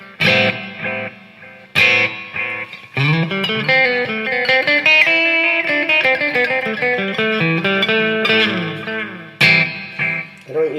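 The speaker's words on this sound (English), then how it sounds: "I usually keep that on kind of a long delay thing. And I use that space echo setting." A surf green Squier Telecaster electric guitar through a long space echo delay pedal rings out plucked chords and single notes, each trailing repeating echoes that blur into a sustained, shimmering wash. Sharp attacks return every couple of seconds.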